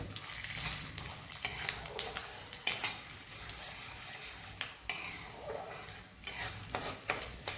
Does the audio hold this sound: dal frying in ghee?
yes